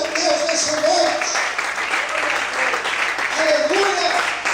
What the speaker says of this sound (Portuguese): Será que você pode glorificar e aplaudir a Deus nesse momento?